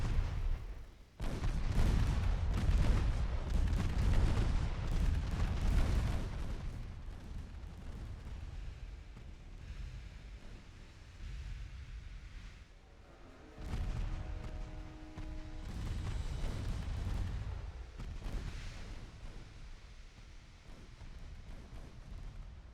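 Naval guns in Ultimate Admiral Dreadnoughts boom in heavy, rumbling salvos during a battleship engagement, several deep blasts rolling out over a distant low roar, with quieter lulls between volleys.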